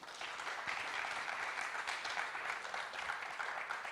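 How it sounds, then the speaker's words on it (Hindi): An audience at a theatre performance by Nat Mandap Patna applauds, dense steady clapping from many hands that carries on evenly throughout without talk. "एक बार जोरदार तालियां।"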